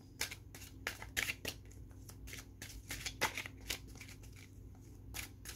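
Tarot cards shuffled by hand, a quiet close run of quick riffling flicks and soft slaps in an irregular rhythm, faint and with no one speaking.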